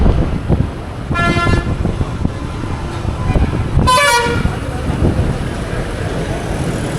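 Buses and traffic honk at Trichy Chathiram bus stand: two clear horn blasts, the second longer, sound over a continuous rumble of engines and road noise.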